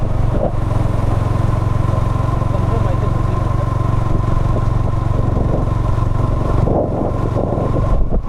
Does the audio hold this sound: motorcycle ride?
yes